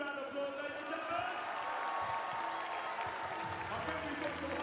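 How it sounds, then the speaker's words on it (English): Crowd applause in an arena at a London 2012 Paralympic wheelchair basketball game between Canada and Poland, a distant, fairly faint clapping wash blended with crowd murmur and voices. "Give them a massive round of applause, ladies and gentlemen"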